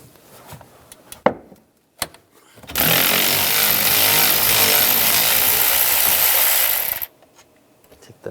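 A power tool with a 13mm socket loosens a nut on a 2011-2018 Ram 1500 during alternator replacement, making a loud, sustained rattling whir for about four seconds between a few clanks.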